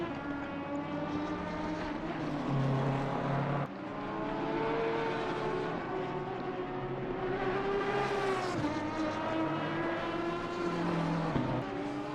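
A GT3 race car engine in a racing video game howls steadily at high revs, its pitch climbing and dropping sharply with noticeable gear changes, loud and continuous throughout.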